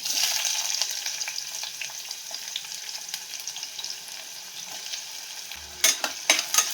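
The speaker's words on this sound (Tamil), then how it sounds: "நல்லா வதக்கலாம்" Onions sautéing with green chillies in a pan for Kongunadu white mutton biryani, a steady close sizzle and crackle of frying throughout, with a few sharper stirring scrapes near the end.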